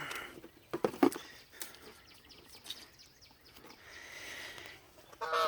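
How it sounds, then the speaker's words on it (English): Distant honking calls from a flock of geese pass overhead, irregular and fairly faint against outdoor background noise. "The geese flew over."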